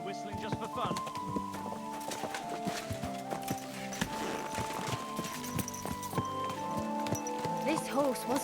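Horse hooves clip-clop steadily through a video game scene, close and rhythmic, with a whinny or two, under ongoing character talk and background music.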